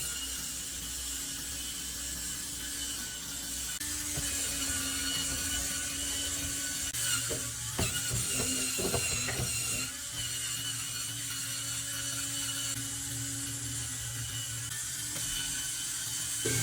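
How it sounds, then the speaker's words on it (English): Levinist electric spin scrubber fitted with a brush accessory, running with a steady high-pitched motor whine and hum that holds throughout, with brief scraping bursts partway through as it works on household surfaces. "the spin scrubber is so easy to use and so practical"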